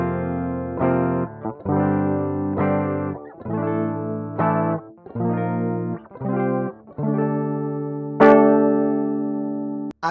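A distorted electric guitar in double drop D tuning (D A D G B D), a Strat, plays a series of heavy, low chords in choppy bursts with short gaps between, loud and close.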